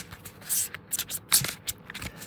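A deck of playing cards shuffled by hand for a board game, several short papery riffles and taps spread over a couple of seconds, close-miked and soft, with no voices.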